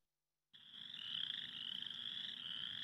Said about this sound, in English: you are greeted by a symphony of chorus frogs.